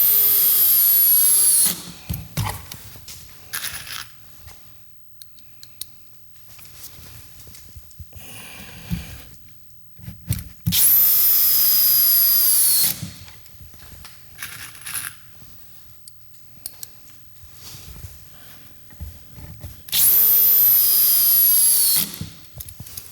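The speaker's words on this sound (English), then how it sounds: "the drill has to work a little harder to drive those screws in" A power drill drives screws into a hardwood bench in three long, loud whirring bursts, each straining as it runs, separated by quieter stretches of handling and tapping.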